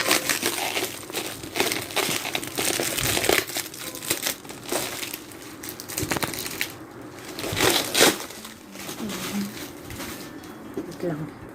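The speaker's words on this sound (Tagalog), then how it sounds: "tanggalin ko muna itong plastic" Crinkly plastic wrapping being pulled off a free Shopee seller health kit package, crackling and crumpling in uneven bursts close by, with a voice talking intermittently over it.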